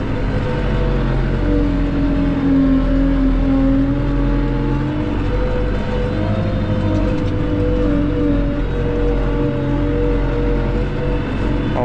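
A tractor engine drones steadily as the tractor drives through a hay field near a canal, a continuous loud, close rumble with shifting tonal hum and no pauses throughout.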